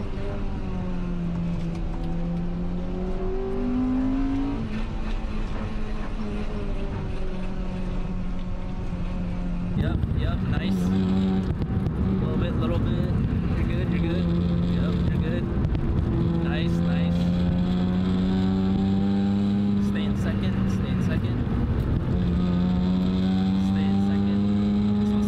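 A Honda Integra accelerates hard on a winding mountain road, its engine rising repeatedly through the gears, first fainter and then louder and closer, with shifts and dips between pulls while people talk over it.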